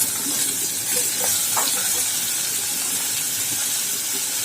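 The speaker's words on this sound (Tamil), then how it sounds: "இன்றைக்கி நான் குக்கரில் தாளிக்கிறேன்" Steady sizzling and hissing of vegetables tempering in hot oil in a pressure cooker, with occasional faint stirring clinks.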